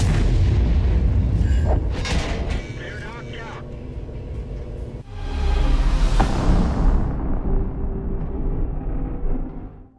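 An FV4005 tank gun firing a HESH shell in World of Tanks, a heavy booming blast with a long rumbling tail, followed by a second loud boom midway amid game noise and battle sounds.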